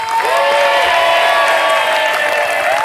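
A studio audience on the Family 100 game show applauds and cheers for the contestants, a loud, continuous crowd roar with steady tones running beneath it.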